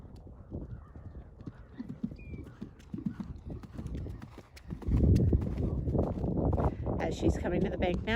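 Horse cantering toward a bank jump during a riding training session, rhythmic hoofbeats on turf growing louder and closer in the second half, with a person speaking over the footfalls.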